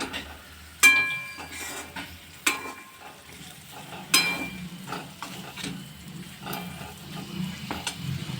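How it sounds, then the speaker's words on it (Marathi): A spoon scrapes and clinks against a pan while cooked bitter gourd is mixed into masala, with a few sharp metallic knocks over a soft, continuous sizzle. "आता मी ही शिजवलेली कारले टाकून घेत आहे मसाल्यामध्ये छान मिक्स करून घ्यायची"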